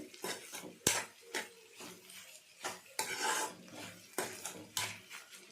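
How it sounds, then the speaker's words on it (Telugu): A spoon scrapes and clinks through ivy gourd curry in a metal pan, in uneven strokes with a few sharper knocks against the side, close and fairly quiet. "బాగా కలపండి"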